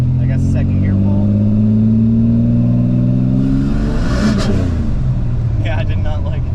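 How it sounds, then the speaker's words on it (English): Turbocharged 3800 car pulling hard in second gear, a loud steady engine drone rising in pitch as it accelerates, with a sharp whoosh partway through, heard from inside the cabin. "I'm gonna try, I guess, second gear pull."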